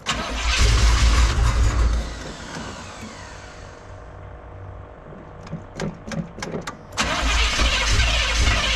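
A frozen 454 big block square-body Chevy engine cranks loudly, quiets with a few sharp clicks, then catches and roars back up to a strong, close running sound.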